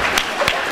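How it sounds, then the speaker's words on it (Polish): Clapping from an audience at a local community event: a brief burst of continuous applause with a couple of sharper claps standing out, close and fairly loud. "Brawa, brawa."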